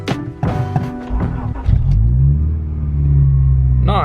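A BMW F30 328i engine cranks and catches, then settles into a loud, steady, close rumbling idle with a rising rev, following brief voices and handling noises at the start.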